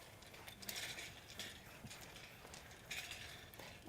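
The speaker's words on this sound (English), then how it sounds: "So I'm actually going to wind up the cord" A roller shade cord is wound onto a spring roller with a faint, close ticking and rattling of small mechanical parts. A few slightly louder clicks come through near the start and near the end, and no one talks.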